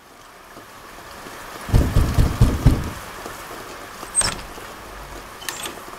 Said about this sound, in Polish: Deszcz leje, a ogień huczy.